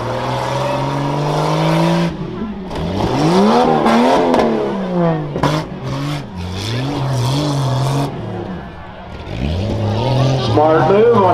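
At a county fair rough truck race, a truck engine revs hard and rises and falls in pitch with repeated surges, fairly close and loud, while an announcer talks over it.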